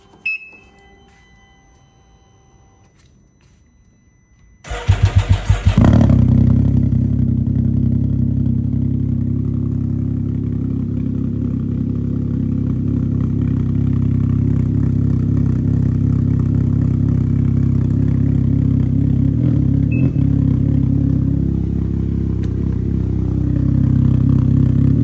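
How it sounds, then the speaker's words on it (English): An engine fitted with a Silber Turbo exhaust and baffle cranks after a few quiet seconds, catches with a loud clattery burst, then settles into a steady, deep, rumbling idle that holds to the end. "I'm gonna go ahead and crank her up and we'll see how it sounds with the Baffle."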